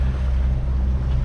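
A sailboat motoring across a flat, calm Atlantic Ocean, with a steady low engine drone and a rumbling hull under continuous broadband wash, loud and constant throughout.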